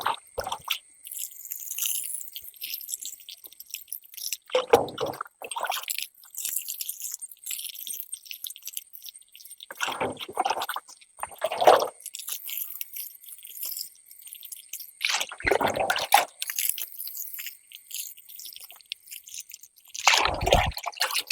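Water sprayed over young chili plants during the first fertilizer feeding, heard as wet dripping, splashing bursts that recur at intervals, with quiet gaps between them and no talk.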